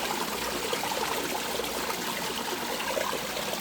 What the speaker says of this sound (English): We've been we were playing with the flow of the water, and I really like this splash that we got going on here